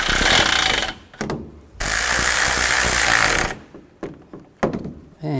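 Ratchet wrench tightening the radiator cooling fan bolts on a 2011-15 Kia Sorento: rapid close clicking in two long bursts, followed by short scattered ratchet strokes and knocks.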